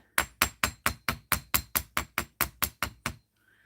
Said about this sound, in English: we're going to take our nylon jaw hammer, or nylon head, I should say, and we're going to hammer the outside of these